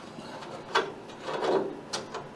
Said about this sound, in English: Let's take this bolt out